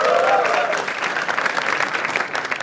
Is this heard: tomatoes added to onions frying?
no